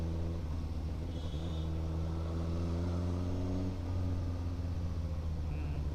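A Suzuki GSX-S1000 motorcycle engine pulls steadily under normal gear shifts while riding through traffic, a continuous close, loud droning hum that stays even throughout with no talking.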